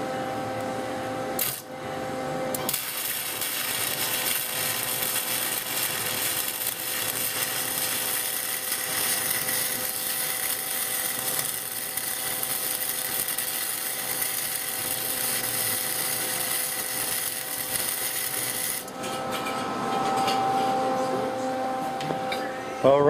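Tack welding on a homemade rock crusher, a steady loud buzzing crackle that runs nearly unbroken for about sixteen seconds before stopping, with a brief earlier burst and quieter shop noise around it.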